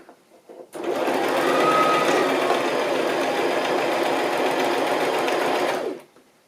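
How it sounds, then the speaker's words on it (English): A sewing machine runs a straight stitch along the edge of a busy-patterned fabric, whirring steadily and continuously for about five seconds after a brief pause, then stopping; no talking over it. "Now I think I need to do a straight stitch along the side."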